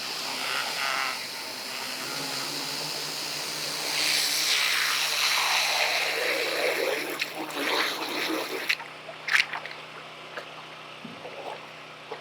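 A turbo nozzle digging down into sand gives a steady rushing hiss of water and churned sand that swells midway and then cuts off abruptly, leaving scattered knocks and splashes.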